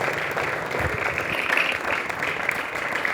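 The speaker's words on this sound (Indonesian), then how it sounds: "Tolong berikan tepukan kepada" An audience applauds at a school assembly. The clapping is steady and dense, moderately loud, and runs for a few seconds with a faint murmur of voices beneath it.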